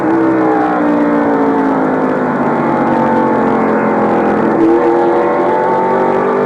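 Onboard a 1989 NASCAR race car, Harry Gant's number 33 at North Wilkesboro, the engine drones loud and steady at high revs, pitch dipping and climbing through a corner, unbroken throughout.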